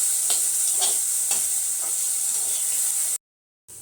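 Potatoes sautéing in a pan give a steady bright hiss of oil with a few soft stirring scrapes, then a brief cut to silence near the end.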